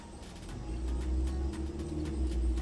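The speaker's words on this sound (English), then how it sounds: "these cars are so loud around here" Cars on a nearby road send a continuous low rumble past an indoor tufting-gun workspace, with the traffic droning steadily and fairly quietly throughout.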